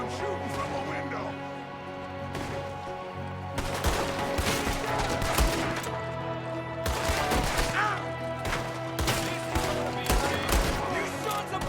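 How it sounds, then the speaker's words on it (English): Gunfire from an enemy shooting out of a window in the Red Dead Redemption 2 video game, rapid overlapping shots and cracks in dense, loud bursts throughout, with battle clamor behind them. "there's another one shooting from a window"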